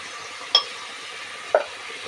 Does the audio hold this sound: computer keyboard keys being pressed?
no